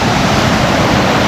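Asik-Asik Falls in Alamada, North Cotabato pours down in a steady, loud broadband rush of falling water with no break, close by and filling the whole scene.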